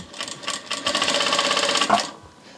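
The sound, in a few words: Vevor industrial sewing machine sewing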